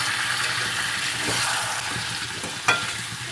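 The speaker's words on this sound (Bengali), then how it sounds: "দেখো আলুগুলো এবারে আমি দিয়ে দিলাম," Pre-fried potato pieces go into a pan of chicken curry on medium flame, giving a steady, close hiss of sizzling oil with occasional stirring scrapes and no talk.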